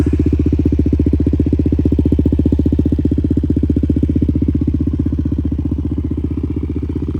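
Close and loud, a Suzuki LTZ 400 ATV with a full HMF exhaust idles steadily, its exhaust thumping in an even, rapid pulse throughout with no voices.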